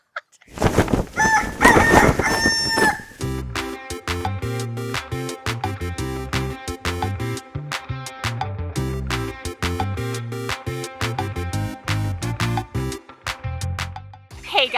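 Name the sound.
hungry backyard chickens clucking and crowing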